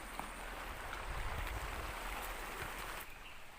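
River water babbles steadily and softly in a quiet rural spot along a riverbank walk, a continuous faint rushing heard alone without talk.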